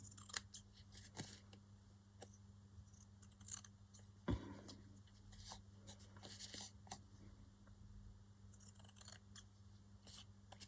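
Scissors trim paper for a spring journal page spread, giving a handful of crisp snips with one sharp, louder cut in the middle, over a quiet room hum and no talking.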